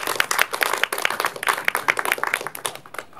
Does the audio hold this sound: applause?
yes